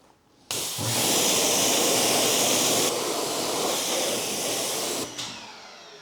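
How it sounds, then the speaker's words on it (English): A water spray rinses a car wheel during detailing. After a short click, a loud steady hiss starts abruptly, holds for several seconds with a slight change partway through, and then cuts off. "Let's give it a final rinse here."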